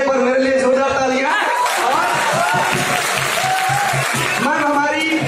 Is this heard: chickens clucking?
no